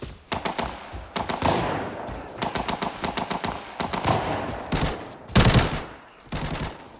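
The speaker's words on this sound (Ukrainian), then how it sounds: "Отут якісь постріли" Rapid bursts of gunfire crackle in quick repeated volleys in the mobile video game Arena Breakout, with a louder close blast near the end.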